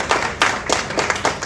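An audience at a business event gives a short round of applause, several loud claps in a loose rhythm, close and clear with no one talking.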